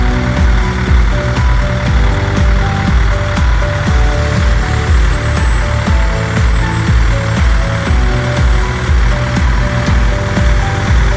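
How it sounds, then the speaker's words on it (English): Water and gas dual-purpose drilling rig made by China Shiting Machinery Factory running, a loud steady diesel engine drone with a rapid regular mechanical thumping pulse throughout. "It is a water and gas dual-purpose drilling rig produced by China Shiting Machinery Factory."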